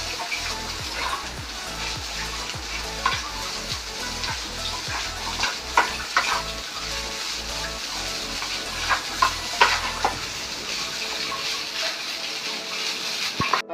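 Leftover dosa pieces are stir-fried with fried egg in a pan, giving a continuous sizzle under repeated scraping and stirring strokes at close range.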